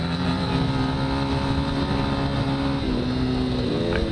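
A dirt bike engine roars at a steady, loud pitch throughout a sandy hare scramble race at Horn Rapids, holding a constant throttle drone with slight rises and dips.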